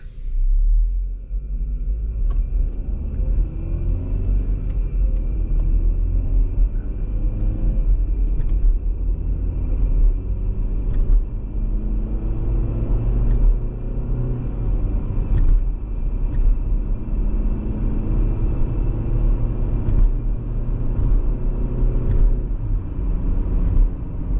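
Chevrolet Equinox with a 1.5L Ecotec engine and an underboost fault, heard from inside while driving on the road: a steady low cabin rumble of engine and tyre noise that holds an even level throughout.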